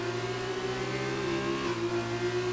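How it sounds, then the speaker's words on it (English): Formula 2 race car in a racing video game at Singapore, an engine note that holds steady, then rises and shifts pitch as the wheels spin under power through a corner, with no talking. "You can hear the wheels spin."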